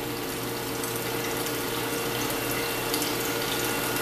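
A tap runs steadily into a sink filling with ozonated water, giving a constant splashing gush with a faint mechanical hum beneath, close and even throughout.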